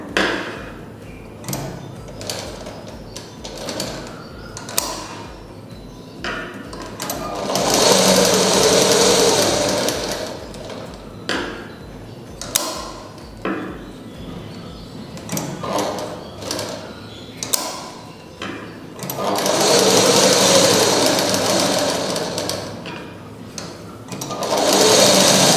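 A sewing machine stitches pleats into fabric in two sustained runs of rapid mechanical whirring, with ticking, handling and clicking sounds close by in the gaps between runs.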